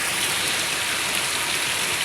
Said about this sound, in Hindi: ज़बरदस्त बारिश हो गई है, तो फ़िलहाल अभी भी हो रही है।